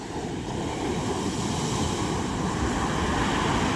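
Big sea waves surge at the Julugan fish terminal in Tanza, Cavite during a storm, a continuous broad roar of surf mixed with wind, loud and close, no voices.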